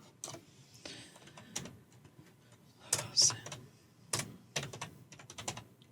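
Someone types on a computer keyboard, quiet bursts of key clicks with uneven rhythm and short pauses between them, close and fairly faint.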